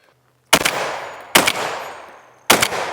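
A shotgun fires Aguila 8-shot target loads at 1275 fps, three loud, sharp blasts spaced about a second apart, each followed by a brief decaying echo.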